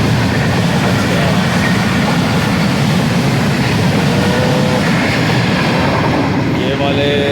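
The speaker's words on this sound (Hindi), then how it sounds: "ट्रेनें यहाँ से बहुत ज़्यादा गुज़रती हैं" A train passing close by a home terrace: a loud, continuous rumble with rhythmic wheel clatter throughout, and faint voices underneath.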